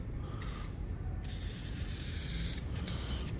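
Aerosol spray paint going on as a light first coat over GMC Sierra truck interior parts, close steady hissing bursts with brief pauses between passes, no talk.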